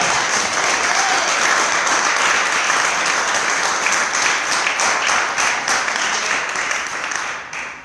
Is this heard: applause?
yes